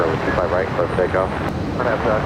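An airplane takes off at Los Angeles International Airport (LAX): a steady broad engine roar fills the short moment, with voices talking over it.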